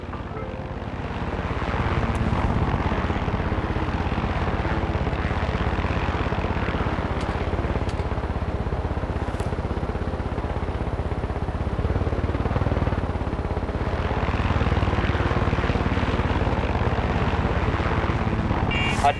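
Aircraft flying in Far Cry 6, a loud continuous engine and rotor-like drone that holds steady for the whole stretch, with a brief voice audible at points.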